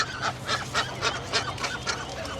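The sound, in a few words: domestic ducks calling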